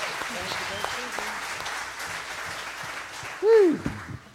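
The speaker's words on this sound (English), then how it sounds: "can we get another round of applause for our wonderful musicians in the band on this one?" A church congregation claps for the band musicians during a service, a moderate, steady applause with voices mixed in and a brief loud vocal whoop near the end.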